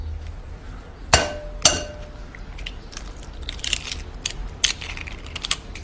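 A single fresh egg is cracked against a hard edge in a home kitchen, giving two sharp, close cracks about half a second apart, followed by faint clicks and small handling noises.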